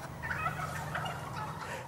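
Turkeys and chickens in an outdoor free-range run, the birds gobbling and clucking in a steady, fairly faint flock murmur, with several bright gobble calls rising out of the background.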